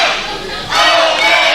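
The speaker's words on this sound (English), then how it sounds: "Listen to the crowd, Bobby." A wrestling crowd at a CWF Uprising show roars and cheers loudly and steadily, swelling louder partway through as the underdog Omega becomes the number one contender.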